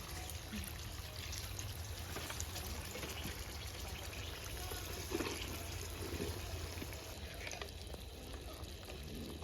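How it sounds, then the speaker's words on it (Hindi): Boiled mutton water is poured into a mutton curry cooking on a traditional clay stove, giving a continuous liquid wash and soft sizzle at low level with no voices over it. "मटन की जो पानी है, बॉईल किया हुआ पानी, वो ही डाल रही हूँ।"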